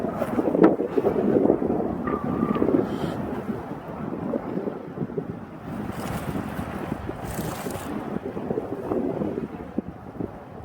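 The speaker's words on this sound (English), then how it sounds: "It's very windy up here." Strong wind buffets the microphone on a small hill in a constant low roar, with gusts rising and falling throughout and no voices.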